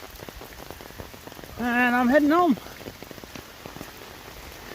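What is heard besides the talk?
heavy rain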